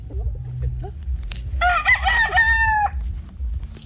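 A gamefarm rooster crows once, a long, loud call lasting over a second, above steady low rumbling background noise.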